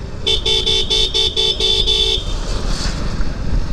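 Several vehicles honk in road traffic during a motorcycle ride through Malshej, one loud horn blaring in a rapid run of about seven short toots, then fading into a rough wash of engine and road noise.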